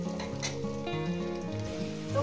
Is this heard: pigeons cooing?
no